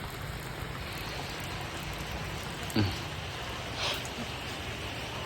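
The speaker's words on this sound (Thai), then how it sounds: "มาบรรยากาศฝนตกเลยวันนี้" Steady rain hisses as a constant broadband wash, with a couple of faint knocks and a brief distant sound over it.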